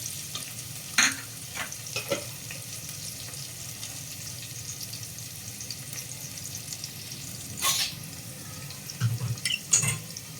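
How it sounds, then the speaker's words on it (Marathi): Cumin and ginger garlic paste frying in a pan for spiced matar rice, a steady low sizzle with occasional sharp clinks and scrapes of a spoon. "आता मी जिरं घातलं आणि आता मी आलं लसूण पेस्ट घालून घेते"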